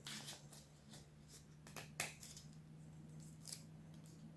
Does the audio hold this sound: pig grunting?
no